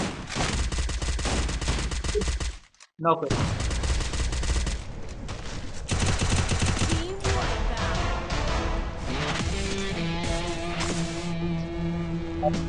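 Rapid bursts of automatic gunfire from the battle royale mobile game Free Fire, dense and loud almost throughout with a brief gap, layered with game effects and excited shouting.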